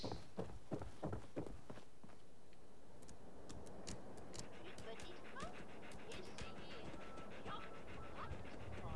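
A dog companion in the video game Fallout 4 pants and pads along with quick ticking footsteps, faint and close, beneath someone talking in French.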